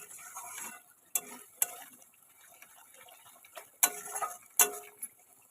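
Spice masala being stirred and sautéed in oil, soft sizzling with sharp scraping and tapping strokes at irregular intervals, close and moderately quiet.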